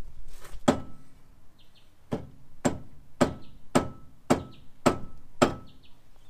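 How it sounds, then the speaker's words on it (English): Hammer blows through a rag, knocking a part off a Nissan Silvia S14 during a wheel stud install: about seven sharp, evenly spaced impacts, close and loud, with no talking. "I'm going to use a hammer and a rag and just try and hit it off."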